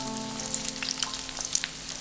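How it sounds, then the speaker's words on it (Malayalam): Chicken nuggets fry over a low flame in a pan, giving a soft, continuous sizzle with scattered small pops, close and alone without speech. "അപ്പോൾ ചെറിയ തീയിലിട്ടിട്ട് ഒന്ന് ഫ്രൈ ചെയ്തെടുക്കാം"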